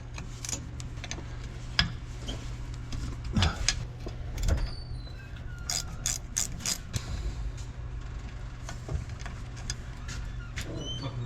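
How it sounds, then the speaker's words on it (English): Small Icon ratchet wrenches loosen bolts during a truck transmission removal, with clusters of quick ratcheting clicks and metallic taps over a low steady hum in a shop. "we use these little wrenches made by Icon"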